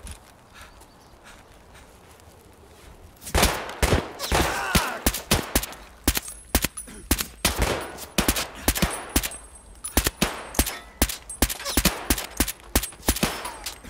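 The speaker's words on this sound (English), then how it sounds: "Yeah, he's shooting through the goddamn bushes." Rapid gunfire from an enemy's pistol in the first-person shooter Escape From Tarkov, a dense string of sharp, loud shots with short gaps running for about ten seconds after a quiet start, no talk over it.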